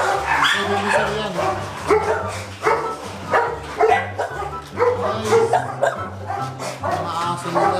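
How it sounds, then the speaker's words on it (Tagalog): Several dogs bark and yip repeatedly at a kennel in Tuguegarao, loud and close, with overlapping barks, whimpers and people talking among them. "Mga aso nila."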